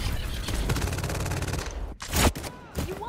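Gunfire in the FragPunk shooter, played as the Lancer Serket: a rapid automatic burst rattles steadily for about a second and a half, followed by a few sharp, loud single shots with brief gaps between them.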